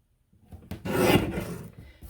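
Paper being trimmed on a cutter for a scrapbook page kit, a single steady rasping slide of the blade lasting about a second, close and clear with no talking.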